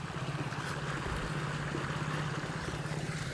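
Irrigation water pours steadily into a chikoo orchard on a Gujarati farm, a continuous rushing, trickling flow with a low steady hum beneath it, loud and close throughout without pause.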